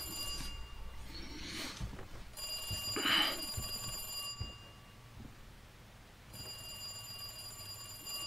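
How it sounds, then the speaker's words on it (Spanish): An old-style telephone bell rings in bursts inside the Resident Evil 2 Remake game, clear and close, with a short gap and a quiet stretch before the ringing resumes. "Teléfono."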